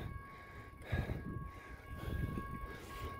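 A train rolls along railroad tracks close by, with steady rumbling wheel noise, faint clacking and a sustained high tonal squeal or hum running throughout.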